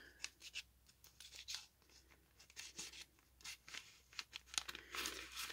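Scissors snip through paper in a craft setting, a series of quiet, crisp cutting strokes with soft rustling and crinkling of the sheet between cuts, close and faint.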